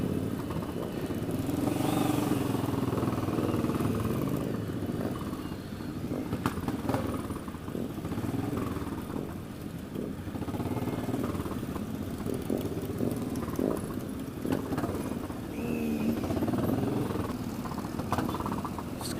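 Motorcycles and scooters, including a Suzuki Gixxer, rumble past at a riders' protest rally in London's Parliament Square, a continuous low mix of idling and revving engines with occasional louder passes.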